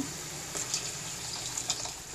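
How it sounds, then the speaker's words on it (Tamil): Lentil water pouring into rasam already at a boil, a steady watery rush with a few brighter splashes, close and fairly quiet, no voices. "இப்போ பருப்பு தண்ணி விடுறேன்."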